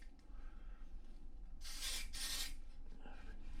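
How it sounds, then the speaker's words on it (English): Two short hissing bursts of cleaner sprayed close by onto a bike cassette, the second following right after the first, against a quiet background. "give this a good old spray in and round across the cassette as well"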